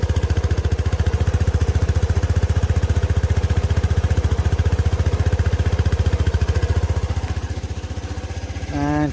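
A Lexmoto Aura motorcycle engine runs steadily up close with a fast, even putter that stays loud throughout, dipping slightly near the end before a brief tonal blip.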